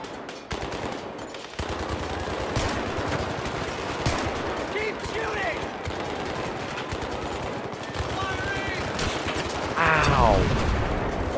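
Full-auto gunfire in the video game Battlefield 3, a dense stream of rapid shots running throughout amid other battle noise, growing louder near the end.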